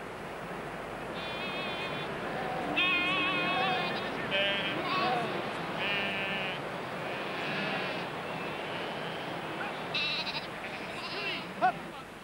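Several sheep bleat over one another across open outdoor farmland by the River Tees, some calls near and loud, others farther off, over a steady windy hiss.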